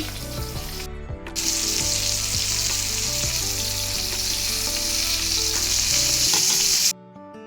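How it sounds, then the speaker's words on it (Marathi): Whole pomfret fish fries in a pan of oil after being flipped, with a loud, steady sizzle and crackle that carries on without pause, and a few soft knocks near the start. "पापलेट एक साईड पूर्ण होऊ द्यायची नंतरच आपण त्याला पलटी करायचं आहे"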